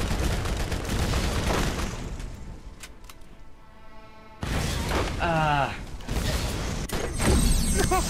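Enemy gunfire in the shooter game Borderlands: busy, dense bursts of shots and mechanical clatter fill the scene, dipping briefly before loud volleys resume, with voices talking over the action.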